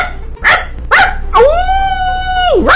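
A person vocally imitates a dog, giving two short barks followed by a long, drawn-out howl that rises, holds steady and drops at the end, loud and close.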